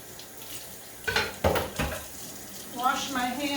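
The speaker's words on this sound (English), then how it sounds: "Wash my hands. I got so much stuff on them, I just didn't want to put that all in the sink there." Hands rinse under a running kitchen sink faucet, the water splashing in short uneven bursts close by, with a clatter of dishes and a voice briefly heard.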